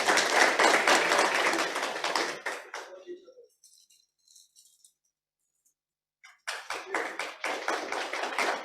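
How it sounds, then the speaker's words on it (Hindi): An audience at a stage event on Guar Day claps to welcome guests, with a burst of clapping that stops abruptly, a stretch of near silence with faint taps, then another burst of clapping. "तालियों के साथ स्वागत तो करें।"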